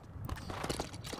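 Horse hooves clip-clop in the LEGO Worlds video game, a quick run of hoof beats over a busy backdrop of game sound.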